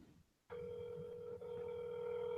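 A telephone ringing tone over a call line, a steady buzzing ring that starts abruptly after a brief quiet moment and holds continuously, fairly faint.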